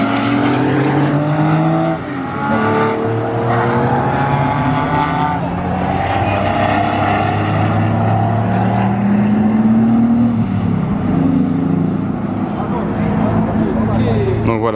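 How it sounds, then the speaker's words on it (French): Modified Porsche RWB cars drive past on the Spa circuit, their loud engines roaring and shifting pitch as they pass close by in a continuous stream. "toutes les Porsche RWB qui passent."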